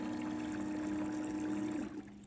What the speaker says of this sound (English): you can simply push the drain button and ClearVue will quickly remove the water from the tank